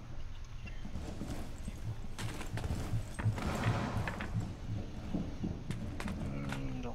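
Quick, rhythmic thudding steps patter in the Rainbow Six Siege Kafe map, moderately close and steady, within a busy game soundscape.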